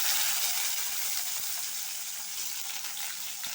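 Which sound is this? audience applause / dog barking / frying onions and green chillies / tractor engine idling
frying onions and green chillies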